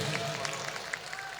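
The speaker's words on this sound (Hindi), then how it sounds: "एक बार जोरदार तालियां बजाइए" An audience at a poetry mushaira claps in brief, scattered applause, moderately loud, with a lively room murmur underneath.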